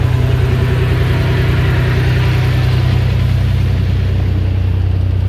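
An old launch boat's engine runs steadily at idle, a loud, constant droning hum with no breaks and no one talking.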